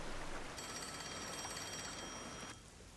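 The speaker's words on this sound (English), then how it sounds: "Oh, the phone. It's a call from the WDO." A telephone rings inside the Rain Code video game, a steady electronic ring with bright high tones held over a busy background of game ambience, cutting off abruptly near the end.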